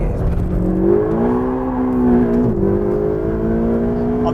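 Ferrari 488 GTB engine heard from inside while driving, a steady loud whirring drone with rising pitch as revs climb, a brief dip around a gear change, then the climb resumes.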